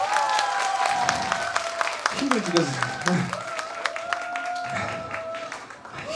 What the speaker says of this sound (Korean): 박수 한번 줘봐요.